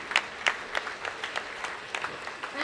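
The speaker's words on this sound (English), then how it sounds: "A huge round of applause, everybody." Scattered audience clapping at a management institute inauguration, a modest round of distinct, fairly close hand claps continuing steadily for a few seconds.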